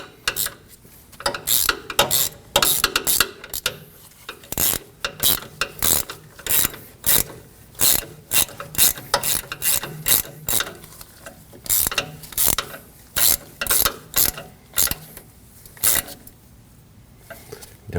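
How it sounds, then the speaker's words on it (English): A ratchet with a 7mm socket turns a stud in on a 2015-2022 Chevrolet Colorado 3.6L V6 starter, making close, crisp clicking strokes in steady repeated bursts, with faint speech in the background. "we can use a 7mm socket to turn it in until it bottoms out and then get the nut on it"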